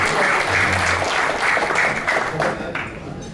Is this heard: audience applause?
yes